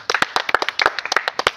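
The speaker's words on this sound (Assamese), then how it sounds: "সকলো এটা হাত চাপৰি মাৰিব লাগে।" Audience at an award distribution programme for sports winners clapping for a prize winner: a burst of many quick, irregular hand claps, close and lively, with no talk.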